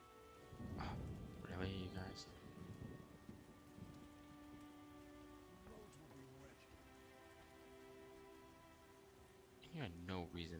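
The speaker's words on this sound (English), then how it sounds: "What a downpour." Heavy downpour in The Witcher video game, a steady hiss of rain throughout with brief thunder-like rumbles, while someone speaks over it at the start and end.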